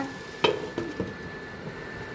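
Four cracked eggs cooking on a low flame in a pan, giving a low steady sizzle with a few sharp clicks and taps of a utensil near the start.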